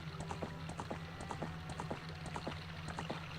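Epona, the horse in the video game Ocarina of Time, making faint, quiet hoof clip-clops in a steady rhythmic gait over a low background hum.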